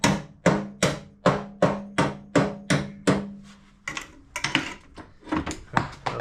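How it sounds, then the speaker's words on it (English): A hammer taps a BMW E36 car body panel in a steady run of about ten sharp, ringing metal strikes, then several quicker, uneven taps follow. "I'll get a hammer here and just tap that across"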